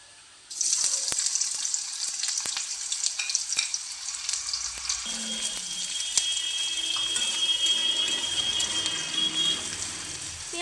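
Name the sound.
chopped onion frying in hot oil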